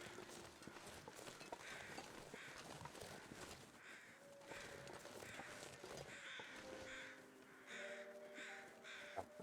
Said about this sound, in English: Do you hear crows?